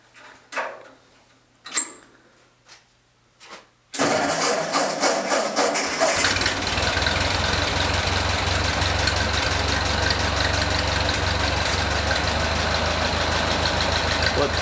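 A Ford 8N tractor starts and settles into a steady, rumbling idle after a few seconds of quiet clanks and taps, the engine running close and continuous to the end.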